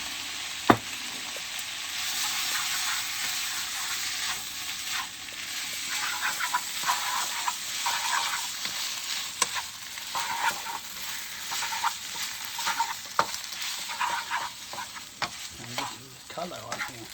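Chow mein noodles with chicken, soy sauce and sesame oil stir-fried in a hot pan, a steady sizzle under repeated scraping and tossing strokes, close and fairly loud with occasional sharper clacks.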